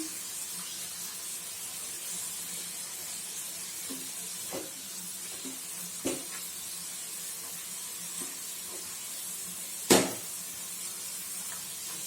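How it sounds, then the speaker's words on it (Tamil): Mutton sautés in a pan for rava upma, with a steady sizzle and occasional scraping or tapping of a spoon, one sharper knock standing out, close and without speech. "மட்டன் போட்டு நல்லா வதக்கிக்கோமா"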